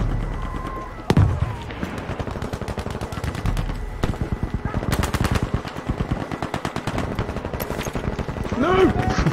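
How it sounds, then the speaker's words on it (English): Rapid automatic gunfire in a Battlefield 5 match, long sustained bursts of evenly spaced shots, loud and close, with brief pauses and a few heavier blasts. "Suppressive fire! Scaring them with my bullets!"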